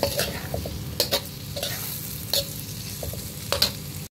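Chicken liver beefsteak cooks in a pan, a steady close sizzle broken by several sharp clinks and scrapes of stirring.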